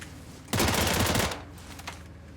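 A burst of rapid automatic gunfire in the video game PUBG rattles for about a second, followed by a couple of fainter shots.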